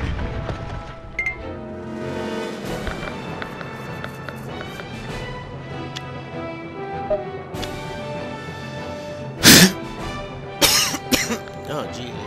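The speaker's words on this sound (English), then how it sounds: "You're like coughing up a storm." Coughing in a Nobunaga's Ambition: Iron Triangle game session, a few sharp bursts late in the clip over steady game music and ambient sounds.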